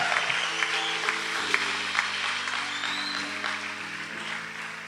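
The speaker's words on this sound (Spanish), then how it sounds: "dale un aplauso al Señor y al hermano Rigo también." Church congregation applauding during a Spanish-language sermon on fatherhood, a steady wash of clapping that fills the whole stretch at moderate loudness, with a sustained low organ or keyboard tone running underneath.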